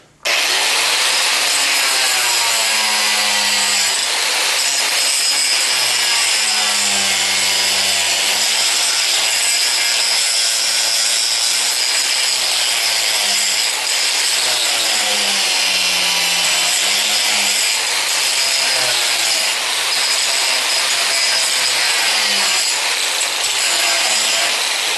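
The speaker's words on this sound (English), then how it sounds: "get a better shot at grinding off what's left of the" A power grinder works steadily on the old trailing arm bushing of a 1976 Corvette, a loud, harsh, unbroken whine that holds for the whole stretch with small shifts in pitch and no talk.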